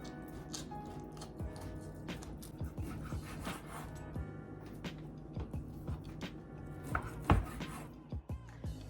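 A dull knife cutting beef into one-inch stew pieces against the grain on a board, quiet repeated chopping taps and soft squishes in an uneven rhythm, with one sharper knock near the end.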